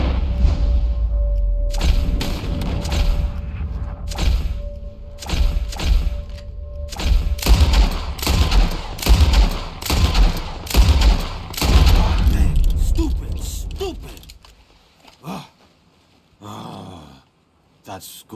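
Rapid volleys of gunfire and heavy thuds from a bird-shooting scene in the video game Red Dead Redemption 2, loud and dense with game voices mixed in, thinning out toward the end.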